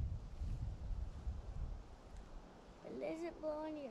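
Wind blows steadily across the microphone while people fish, a low rumbling buffet over the first few seconds before a voice speaks near the end.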